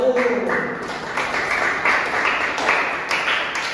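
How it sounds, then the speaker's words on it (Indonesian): A classroom of students applauds a presenting group in short, uneven bursts of clapping heard close by, with a voice speaking alongside. "tepuk tangan untuk kelompok 1."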